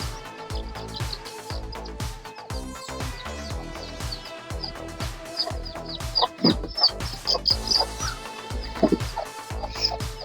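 Sixty aggressive young chickens and chicks clucking and peeping in a busy, continuous chorus, with frequent close calls overlapping and rising in intensity toward the end.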